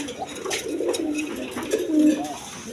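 A pair of high-flying Rajshahi Giribaz pigeons in tiger colour coo in close, rolling throaty notes, several calls overlapping in a steady run, no voices present.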